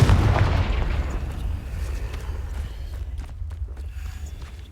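A Confringo fire spell explodes in the Hogwarts Legacy video game: a loud, heavy blast at the start that rumbles and decays over a few seconds, followed by faint scattered crackles.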